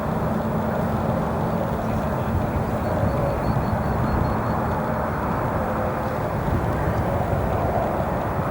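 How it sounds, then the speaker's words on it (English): An Aer Lingus Airbus A330-300 arriving from Dublin at Chicago O'Hare at night, heard as a steady distant jet roar that holds level throughout without talking. "We've got our Aer Lingus Airbus A330-300 arriving from Dublin"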